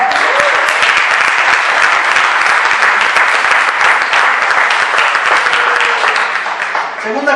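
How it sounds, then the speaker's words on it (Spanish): A church congregation applauds loudly and continuously, a thick wash of clapping with voices and cheers mixed in, tapering slightly at the close. "Denle un aplauso al Señor."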